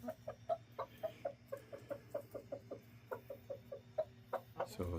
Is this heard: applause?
no